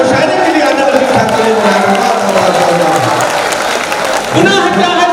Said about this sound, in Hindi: एक बार जोरदार तालियां मुशायरे के लिए आदर के साथ